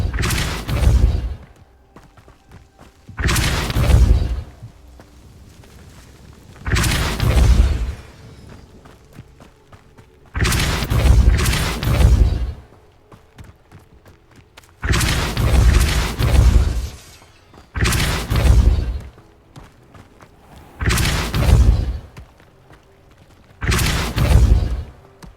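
Depulso force spells cast over and over in Hogwarts Legacy: about eight heavy, loud blasts with deep thumping impacts, each lasting a second or two, separated by quiet gaps.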